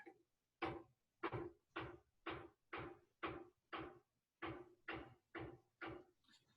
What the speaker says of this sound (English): you can hear that hammering, got somebody making major repairs on the house next door to me here.